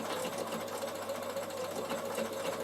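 A Bernina sewing machine runs at a slow set speed, stitching wool appliqué for a draught stopper with a steady, even mechanical whir and hum, close and uninterrupted with no talking.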